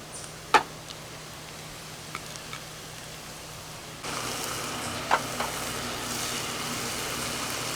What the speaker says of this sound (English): Rosella mushrooms. They're not supposed to be boiled before frying.